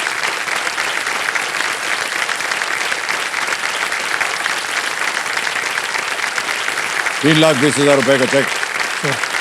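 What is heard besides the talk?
studio audience applause on a game show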